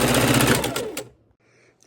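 A sewing machine runs hard for about a second, joining the ends of quilt fabric strips with a dense mechanical whir, then stops into near silence before a brief clatter at the end.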